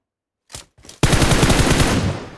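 Automatic gunfire in the mobile battle-royale game PUBG Mobile: two short faint bursts, then a loud, sustained rapid stream of shots, close and continuous.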